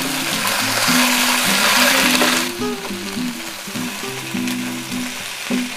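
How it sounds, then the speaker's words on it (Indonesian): Chicken wings stirred and fried in a pan give a loud, steady sizzle with the scraping and shuffling of stirring running underneath, with no voices. "Kemudian diaduk-aduk sampai merata dan sampai sayap ayamnya ini berubah warna ya."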